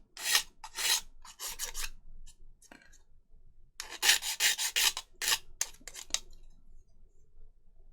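A hand file rasps against a plastic model part in short bursts of bright, scratchy strokes, clustered in quick runs separated by pauses, close and crisp.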